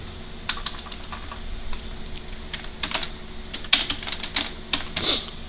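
Keys clatter on a computer keyboard while text is entered into a spreadsheet comment box, quick irregular clicks in short bursts, close but fairly soft.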